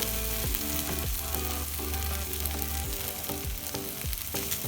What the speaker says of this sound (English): But you just want to stir that around, and you'll see the rice start to take on the colour of the beans.